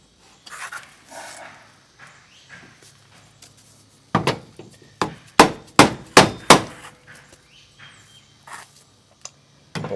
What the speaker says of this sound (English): Let's run this hammer up against it and bang away at it